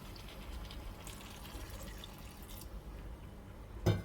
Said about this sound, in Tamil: இது முங்குற அளவுக்கு மட்டும் தண்ணி ஊற்றிக்கோங்க